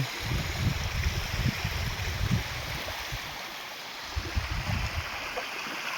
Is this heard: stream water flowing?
yes